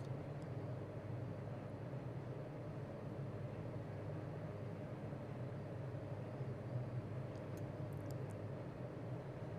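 Steady drone of a light aircraft engine in a flight simulator flying traffic circuits at Dundee, constant and fairly quiet throughout, with no voices.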